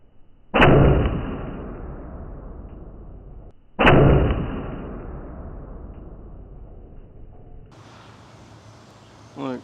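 Two loud air rifle shots fire Gamo Rocket pellets into a block of government cheese, each a sharp crack followed by a fading ring-out, with a brief rattle at the end.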